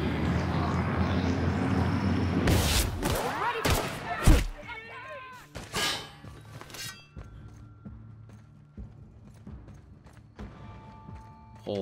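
Pistol gunshots ring out in the video game The Outer Worlds, a handful of sharp cracks and thuds clustered in the first half, then sparser impacts over background game sound.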